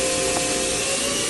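Spindle of a 2002 Hurco VM1 CNC mill with a Cat 40 taper, turning at 3,500 RPM, a loud continuous whine holding a steady pitch over a broad mechanical hum, close and unbroken with no talking.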